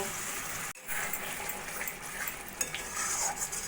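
Banana flower kofta curry masala sautéing in a pan, a continuous hissing sizzle with a loud wet burst as water goes in and light stirring scrapes throughout.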